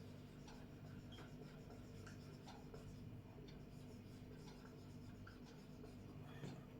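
A pen or marker scratches out a handwritten definition during a grammar lesson, a faint, continuous run of short strokes and scratches over a low steady background hum, no talking.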